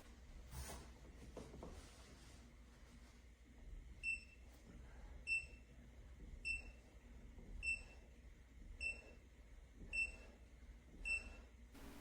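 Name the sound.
push-up counter board beeping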